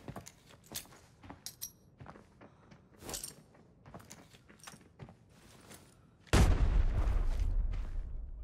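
A grenade explodes in a multiplayer shooter game, a sudden loud boom that sustains and slowly fades after several seconds of sharp gunfire cracks and clicks.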